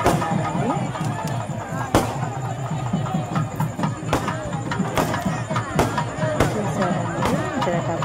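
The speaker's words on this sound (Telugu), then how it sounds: "అట్లాగే ఇక్కడ టపాసులు పేలుస్తున్నారండి" Firecrackers burst at a village temple festival for Kanaka Durgamma, a string of sharp, loud cracks and pops going off irregularly close by over a steady crowd hubbub and voices.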